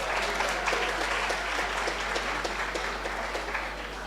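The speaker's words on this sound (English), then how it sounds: "Give her a round of applause." An audience at a university orientation event applauds steadily with dense, even clapping, sustained and moderately loud, with a low hum running beneath it.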